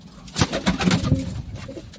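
Several newly released pigeons coo close by near a net in soft, rolling bursts, with rustling and light movement around them.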